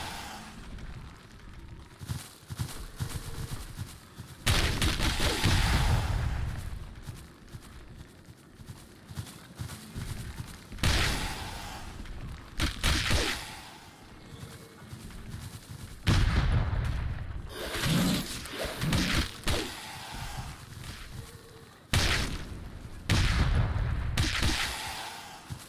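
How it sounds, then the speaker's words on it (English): Repeated bursts of video game artillery and gunfire, loud and heavy, arriving in clusters separated by quieter stretches over about twenty-five seconds, with no talk. "We could just fucking launch artillery."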